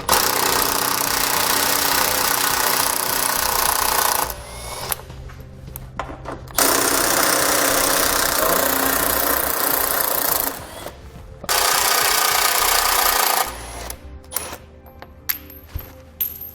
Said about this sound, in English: There's 4 bolts we're going to take out with a 15mm socket.